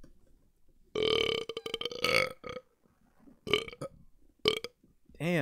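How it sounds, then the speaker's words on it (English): A man lets out several loud, close burps in separate bursts, some long and croaky and others short, with quiet pauses between them. "the burps tonight are weird. My burps are off their game a little bit"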